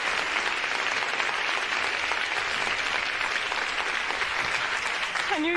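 Sustained audience applause from a stage performance of the musical Into the Woods, a dense, even wash of many hands clapping for several seconds at moderate distance, with no one speaking over it.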